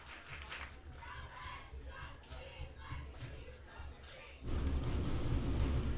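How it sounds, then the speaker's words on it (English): Crowd noise at a high school football game at Alumni Field, Attica versus Letchworth/Perry/Warsaw, a steady murmur under play-by-play commentary that swells louder in the final seconds. "Hear that great crowd on hand here at Alumni Field."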